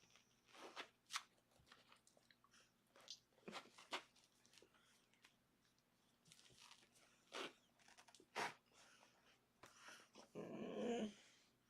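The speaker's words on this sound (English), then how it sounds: "My dog, sorry. My sister's dog." A dog, which the owner says belongs to her sister, growls and bites at something, giving crunchy chewing bursts and short snarls in uneven spurts, fairly close in a quiet room, louder toward the end.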